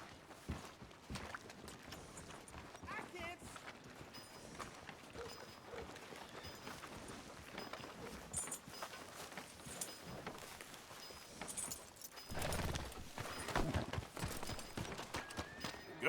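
A horse's hooves clip-clop at a steady walk through a Red Dead Redemption 2 town, moderately close and fairly soft, layered over continuous game ambience with a brief louder swell near the end.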